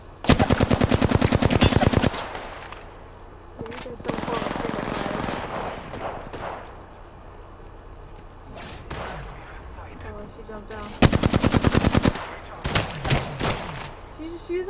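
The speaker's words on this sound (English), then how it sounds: "Trying to give you a cover fire here." Rapid automatic gunfire from the Apex Legends video game comes in two loud dense bursts, with quieter in-game action sounds and scattered shots between them.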